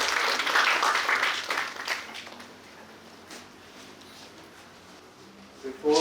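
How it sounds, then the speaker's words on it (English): Audience applause for a speaker at a business session on value proposition fit, a dense burst of clapping at first that thins out and fades to a quiet room within a few seconds. "Everyone, can we have a huge round of applause for Sir?"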